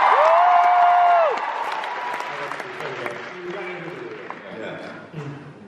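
Audience at a World Scholar's Cup opening ceremony in Sydney cheers and claps, a dense wash of applause and voices that fades after the first second, with a sustained tone early on and talk continuing over the tail.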